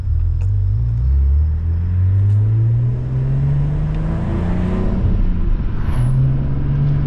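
A Cadillac CT4-V Blackwing driving, its engine a loud, steady low rumble heard from inside the car, with pitch shifting as the revs rise and fall through a downshift and no talking.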